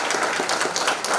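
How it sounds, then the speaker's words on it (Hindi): Audience applause at a network marketing launch event, a short, dense burst of clapping that stays loud and even throughout. "तो एक बार जोरदार तालियां नेटवर्क मार्केटिंग इंडस्ट्री के"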